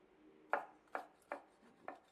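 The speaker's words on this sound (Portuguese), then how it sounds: "Aqui você pode picar ele, o alho, de forma bem simples. Primeiro eu vou picar ele aqui em tiras" Raw garlic being chopped into strips with a kitchen knife on a board: four crisp, evenly spaced chops up close, with no one talking.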